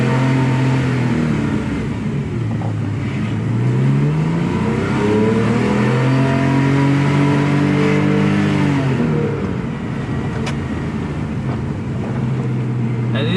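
A naturally aspirated 3.8-litre Porsche 911 Carrera 997.2 flat-six revs loudly and close, its pitch climbing and falling in smooth sweeps through repeated throttle blips, with no talk over it.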